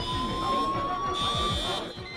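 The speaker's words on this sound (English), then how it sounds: "The fire alarm's gone off." A fire alarm sounds in a film scene as steady high electronic tones over background commotion, fairly quiet in the mix.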